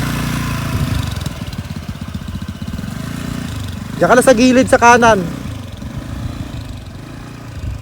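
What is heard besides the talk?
motorcycle engine running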